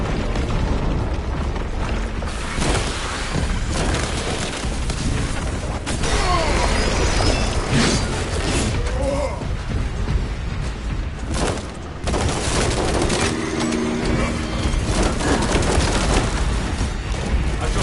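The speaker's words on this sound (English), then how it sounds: "The defensive cannons will terminate it." Defensive cannons firing in a video game, a dense, loud barrage of booming shots and clanking mechanisms that runs continuously without a pause.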